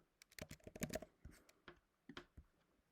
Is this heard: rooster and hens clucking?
no